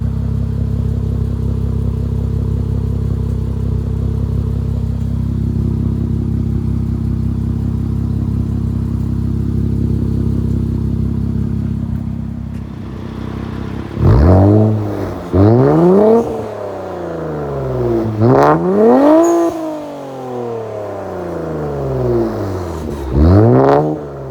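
A 2016-2023 Infiniti Q50 3.0t twin-turbo V6 with an aftermarket Soho Motorsports exhaust idles with a deep steady exhaust drone, then revs up sharply several times, each rev rising and falling, loud and close.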